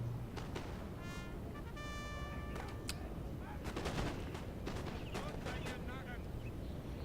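Musket volleys in a Napoleon: Total War battle between Denmark and France, sharp gunfire bursts and crackling salvos heard at moderate volume beneath continuous speech.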